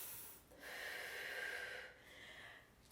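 A slow, deep breath during an at-home core workout, a long airy inhale followed by a softer exhale, close and fairly quiet with no talking.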